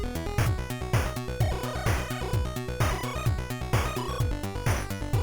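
Chiptune music coded in C for the WASM-4 fantasy console plays alone: a steady looping beat of short pulsing square-wave notes over a bouncing bass line, with a punchy rhythmic kick repeating about twice a second.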